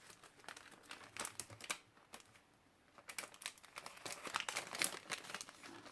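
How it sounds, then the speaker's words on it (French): Plastic packets being cut open and crinkled, dense close rustling and crackling with sharp snips and a short quieter pause midway before the crinkling picks up again, with no speech. "je découpe les sachets"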